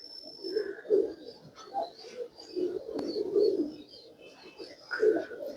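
Domestic breeder pigeons coo softly at close range in a series of low, rolling calls, with faint higher chirps from other birds in the background.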